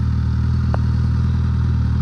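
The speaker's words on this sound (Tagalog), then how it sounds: "Hindi nyo na ako marinig, maingay yung motor." A motorcycle engine running steadily and loudly close by, a constant low droning rumble with a brief rattle partway through and no talking.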